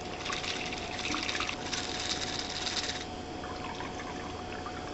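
Rye whiskey Sazerac cocktail poured into a glass at a bar, a close, steady trickling pour lasting a few seconds before a quieter liquid settling.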